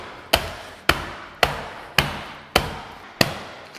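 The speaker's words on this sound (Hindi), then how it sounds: "ढेर सारी आइस लेंगे और इसको इस तरह से पिटाई विटाई कर देंगे इसकी" Ice is pounded and crushed in a pot for a summer faloo drink, heard as six sharp, loud thuds falling at an even rhythm about half a second apart, each with a short crunchy tail.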